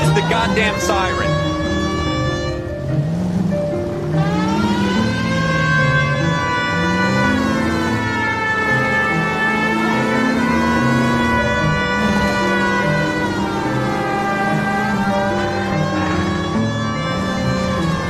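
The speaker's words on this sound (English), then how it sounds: "Goddamn siren." A wailing emergency vehicle siren rising and falling in long sweeping cycles, loud and continuous, with a low engine rumble underneath on a city street.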